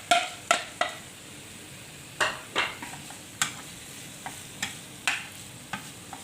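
Chicken pieces and red capsicum fry and get stirred in a pan, giving a low sizzle with sharp scraping clicks of a spoon against the pan in irregular bursts, close by with no talking.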